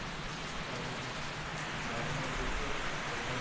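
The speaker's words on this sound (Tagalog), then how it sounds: "Andito na ang ulan sa Marilake." Steady rain pours down during a ride around a farm in Marilake, a dense, even hiss of drops that stays loud and unbroken throughout with no talk.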